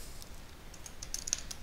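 Quiet, quick keystrokes clatter on a computer keyboard in a short irregular burst of close clicks with a soft background hiss.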